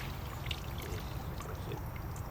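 A freshly harvested whole chanca piedra plant, roots included, is swished and rinsed by hand in water, giving soft splashes and trickling pours. The sound is close and continuous.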